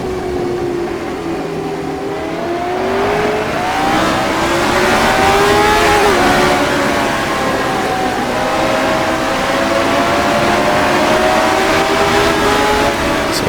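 Several racing car engines from a sim racing video game drone and rev together, loud and steady, with overlapping tones rising and falling as the cars pass close by.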